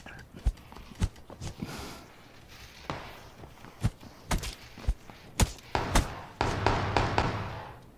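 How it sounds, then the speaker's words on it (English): Punches land in a video game as a run of close, dull thumps at irregular intervals, some quick pairs and others spaced apart, with no talking over them. "You killed him with a headshot punch"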